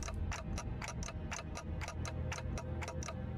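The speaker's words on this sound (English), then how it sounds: "Ticking is all I can hear." A clock ticks in the Limbus Company video game, about a dozen evenly spaced crisp ticks over a low rumbling background hum, steady and continuous.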